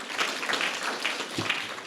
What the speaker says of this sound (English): Officer Deanna McNeil, please give her a round of applause.